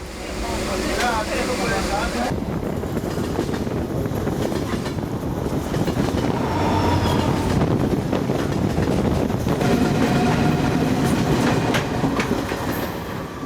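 A train travels on rails through a long journey, with a continuous close rumble, rhythmic clickety-clack and some wind buffeting, while people's voices come and go faintly beneath it.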